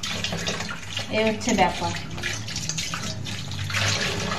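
Fish being washed with water, running and splashing water close by with sloshing bursts, while someone speaks briefly over it.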